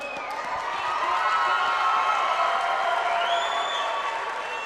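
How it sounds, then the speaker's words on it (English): A crowd at an MMA event applauds and cheers for a fighter's opponent in a sustained, even wash of clapping with scattered shouts across the arena. "can you please give my opponent a round of applause?"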